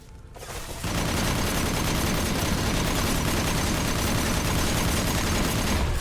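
A high-impact gunshot in Mass Effect Legendary Edition 2 erupts after a brief quiet start, then sustained loud, dense gunfire and blast noise fill the rest of the stretch with no letup.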